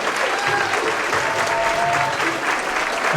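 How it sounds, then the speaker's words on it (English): Guests at a retirement dinner give a round of steady, full applause, with dense clapping that holds at an even level for several seconds. "let's give another round of applause to Mother Dear Jane William Warren"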